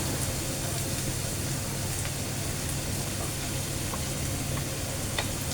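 Ginger and garlic paste fries in hot oil with a steady, close, dense sizzle that holds at an even level throughout, with no voices over it.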